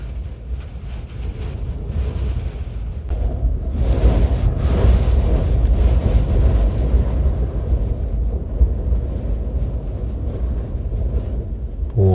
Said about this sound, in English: Oh, the wind's picking up now, you can definitely hear it.